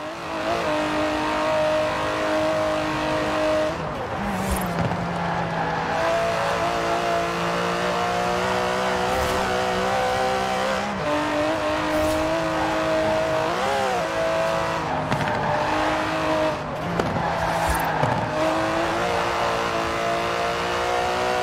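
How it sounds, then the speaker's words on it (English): An Aston Martin DB11 engine in the Forza Horizon racing game, revving and racing steadily for over twenty seconds with shifting pitch sweeps as gears change, loud and continuous, with no talking. "It's an Aston Martin."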